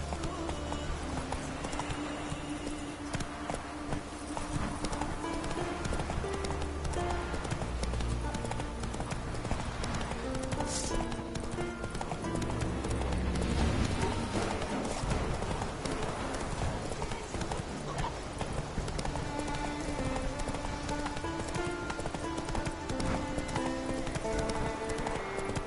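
Roach the horse galloping in The Witcher 3, rapid rhythmic hoofbeats running continuously over a busy game soundscape with music, steady and prominent throughout.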